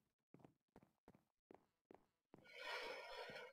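Minecraft horses make a series of short, evenly spaced blocky thuds, followed by a loud, breathy whinny that fills the end of the passage.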